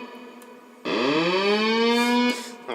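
A circuit-bent electronic toy gives out a siren-like tone that swoops upward and holds a buzzy, harmonic-rich wail for over a second before cutting off, loud and close with no talk.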